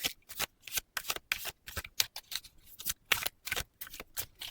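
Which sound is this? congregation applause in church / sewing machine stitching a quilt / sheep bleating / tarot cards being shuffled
tarot cards being shuffled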